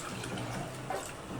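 About three quarters of a litre of water is poured into a cooking pot of dal and rice, a brief steady gushing splash at moderate volume.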